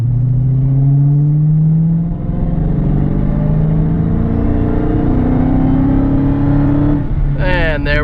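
A 2015 Dodge Challenger Hellcat accelerates hard from a roll, its loud, close exhaust climbing steadily in pitch through the gears, with a brief burst of chirping or squealing near the end.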